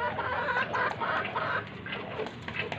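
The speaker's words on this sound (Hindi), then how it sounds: "मुर्गियों को अब हमने अंदर कर दिया है" Chickens cluck steadily nearby, several birds overlapping in a continuous, busy chorus of clucks and murmurs.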